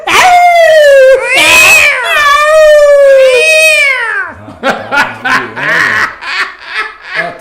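A person imitates cats mating on a rooftop, drawn-out wailing meows repeated three or four times, loud and close, followed by audience laughter and chatter.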